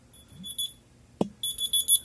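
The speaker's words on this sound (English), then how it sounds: "So you can see my phone is beeping." A BLU X Link smartphone, triggered by the smartwatch locate function, sounds a high electronic alarm-like beep in repeating pulses, with a single sharp knock between bursts in an otherwise quiet room.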